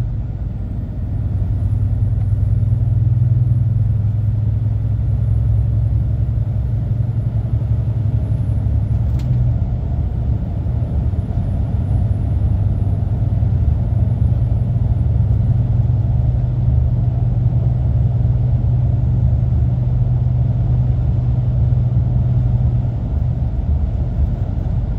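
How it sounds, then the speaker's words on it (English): Heavy road traffic rumbles past an HGV lorry driving the A47 from Norwich toward Thetford in the dark, a steady loud low roar of engines and tyres with vehicles passing close in the opposite direction. "Heavy traffic coming the opposite direction now"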